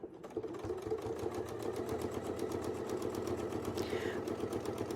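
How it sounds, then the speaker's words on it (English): A sewing machine quilting a circular wreath design runs in a steady rapid stitching rhythm, close and continuous for several seconds, with a brief higher squeak near the end and no talking. "And then we'll just move that down and we'll sew the next one."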